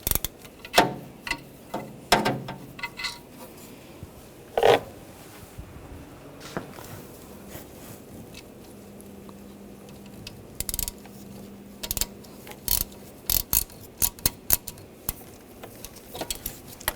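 A socket wrench ratchets in short clicking bursts while removing the alternator bolts on a 2006-2009 Mercedes-Benz E350, with scattered metallic taps and pauses between turns and no talk.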